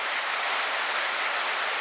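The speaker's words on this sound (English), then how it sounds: "It's raining, sideways rain." Heavy, wind-driven rain lashes down during a storm at a countryside cottage, making a loud, unbroken broadband hiss with no voices.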